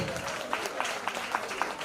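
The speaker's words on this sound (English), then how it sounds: "Let's keep clapping." Audience clapping at an International Women's Day event, a steady, fairly loud crowd applause with a rhythmic pattern of distinct claps over the general patter, brief and continuous.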